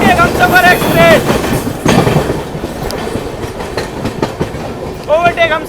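A passenger train rolls past the Gorakhpur–Anand Vihar Terminal Humsafar Express at Kanpur Central, steady rail rumble and clickety-clack with a few squealing wheel tones, loud and close, with a voice calling out briefly over it.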